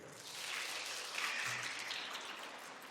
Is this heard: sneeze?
no